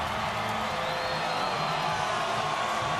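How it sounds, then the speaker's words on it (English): A crowd cheers at a 2010 Oregon State at Boise State college football game, a steady, distant roar of stadium noise with scattered whoops, continuous and even for the whole stretch. "So this crowd is all revved up."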